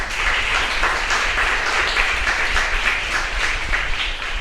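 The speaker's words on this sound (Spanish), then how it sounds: "Denle un fuerte aplauso a Dios" A congregation at a prayer workshop gives God a strong round of applause, dense and steady clapping that fills the whole stretch with no talk over it.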